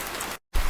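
Steady heavy rain pours down in a dense, close hiss that cuts out to silence briefly before resuming.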